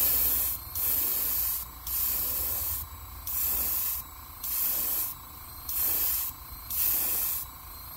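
An airbrush sprays paint coats onto a crankbait lure, eight steady hissing bursts of about a second each separated by short pauses, close and clear with no voices.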